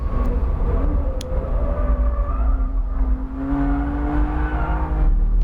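A 2020 BMW M2 Competition engine drones steadily on a race track, a loud continuous roar that rises and holds through corners with faint tire noise, no voices over it.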